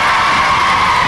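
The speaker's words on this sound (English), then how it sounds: "Big round of applause for Alison." Studio audience for a 1978 children's Saturday TV quiz show cheers and shouts for the winner, a loud, steady burst of crowd noise with children's voices whooping throughout.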